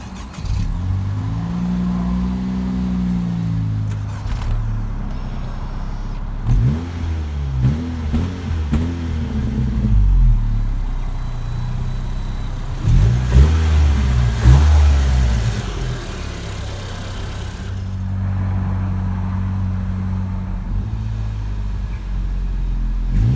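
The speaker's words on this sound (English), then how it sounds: "when you rev the car, it's not too loud, but you just get that small little hum" A 2018 Honda Civic VTEC Turbo revs repeatedly from idle, its engine and exhaust rising in a smooth, moderate hum with several swells and falls before settling back to a steady idle, close by and clear.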